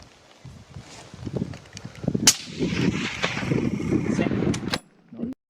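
A rifle shot rings out during a red deer hunt in New Zealand's roar season, one sharp crack in the open air, followed by rustling movement and low talk continuing throughout.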